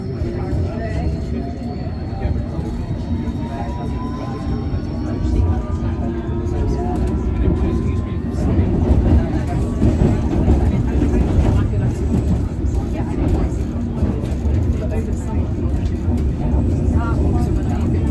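A London Underground District Line train bound for Richmond roars steadily through its run between West Kensington and Barons Court, a loud continuous rumble with rising and falling motor whines, while onboard station announcements play over it.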